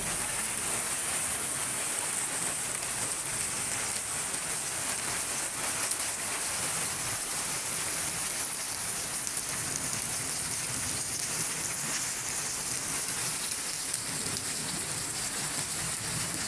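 Steady rain pours at midday in Pabna, Bangladesh, its dense even hiss broken by scattered drops pattering on surfaces nearby. The downpour holds at a constant strength throughout, with no voices.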